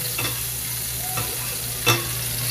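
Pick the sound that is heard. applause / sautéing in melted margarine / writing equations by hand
sautéing in melted margarine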